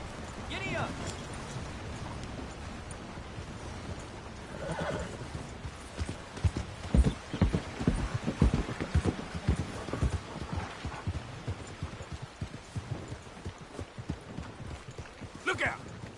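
Hooves clip-clop in a galloping rhythm from a horse in a PS4 video game, with occasional whinnies rising above the hoofbeats, which grow louder and more distinct midway.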